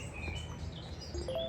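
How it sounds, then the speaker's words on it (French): Birds chirp and sing outdoors in Nice, thin calls scattered over a steady, fairly loud background hum of the street. "on peut entendre les oiseaux"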